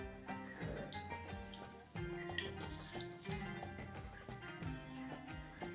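Water pours from a glass into a sauce for a fish tagine cooked over a wood fire, a close, gurgling, splashing stream that keeps running for several seconds.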